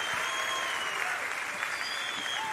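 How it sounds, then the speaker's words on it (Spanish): A large outdoor festival crowd applauds a returning folk comedy act, a steady, even roar of many hands clapping at a moderate distance, with faint whistles rising above it. "Y el aplauso del Patagual en este regreso del huaso Filomeno."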